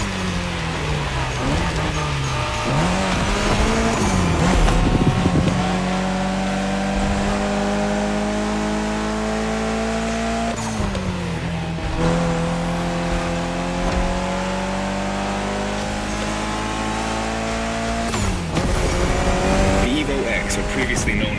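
A Mitsubishi Lancer Evo X in the racing game The Crew Motorfest drives with a loud, steady engine drone that rises and shifts through gears several times, with a voice talking over it.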